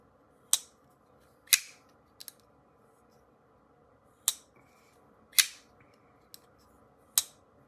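Sharp metallic clicks from a CKF Fif20 folding knife as the blade snaps open and clicks shut, about seven crisp separate snaps spaced irregularly, close and clear over near silence.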